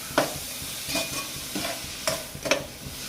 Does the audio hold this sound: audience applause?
no